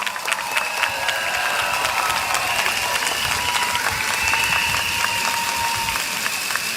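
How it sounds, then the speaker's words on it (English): A rally crowd at an outdoor stadium gives a warm, steady round of applause that runs unbroken for several seconds, with dense clapping and no speech over it. "A warm round of applause."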